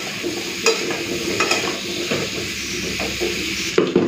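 Pointed gourd and potato pieces sizzle in hot oil with turmeric and salt, under a steady hiss broken by a few sharp clicks as a spatula stirs and scrapes the pan.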